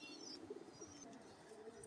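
Pigeons coo softly in low, throaty murmurs at a pigeon market, against a steady background hum, with faint chirps overhead.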